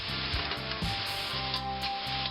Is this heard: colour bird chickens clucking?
no